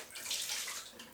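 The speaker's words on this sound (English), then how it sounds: "I'm going to put some water in the kettle" Tap water runs steadily into a kettle before brewing coffee for a Cafelat Robot espresso maker, a continuous hissing splash that stays close and fairly soft throughout.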